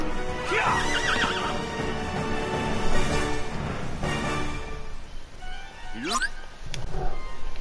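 A horse in the Kingdom Hearts 3 video game whinnies, with hoof clip-clops and other game sounds mixed in, and a voice talks over parts of it.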